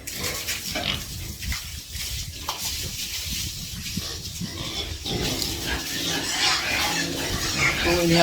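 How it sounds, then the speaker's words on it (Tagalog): Pigs kept on a small farm grunt and snuffle continuously at close range, with a steady noisy background. "May mga baboy."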